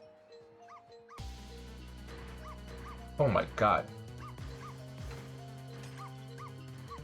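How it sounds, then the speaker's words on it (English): In the video game Ghost Trick, a small dog yips and barks repeatedly over looping game music, with a whimper among the barks, while a person's voice is heard briefly. "Driving this poor little dog crazy."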